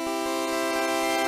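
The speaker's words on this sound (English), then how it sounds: "The fourth soft synth is a polysynth, so you can play chords with it." A single sustained chord from a Game Boy Advance MIDI polysynth rings steadily, bright and buzzy, with a horn-like tone and no other sounds.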